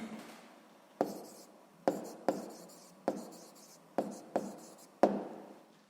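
Pen or pencil writes on paper in short strokes, about eight distinct close taps and scratches in an uneven rhythm, with no talk over them.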